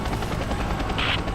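A helicopter in the video game Rise of the Tomb Raider roars loudly and continuously, a dense rotor thrum that fills the whole moment.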